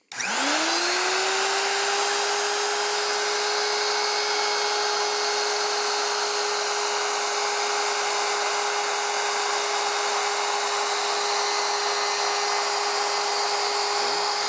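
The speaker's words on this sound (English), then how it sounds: "I'm going to turn the router on and then start routing." A handheld wood router spins up and runs at a steady high-pitched whine while routing letters into a wooden sign, loud and continuous with no talking.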